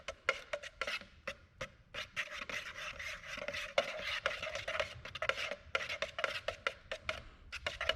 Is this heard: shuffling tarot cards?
no